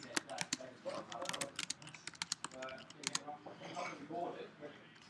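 Quick, uneven clicks of fingers tapping a computer keyboard, fairly faint and close, in short bursts with brief pauses between keystrokes.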